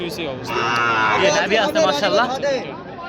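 Sahiwal bull calves moo loudly and close by at a busy cattle market, their long drawn-out calls overlapping with the background chatter of people.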